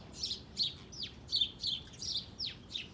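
Several birds chirp and tweet in a garden in rapid, overlapping bursts, with sharp downward-sweeping calls mixed in, like a small scuffle among songbirds at moderate distance over a soft background hiss.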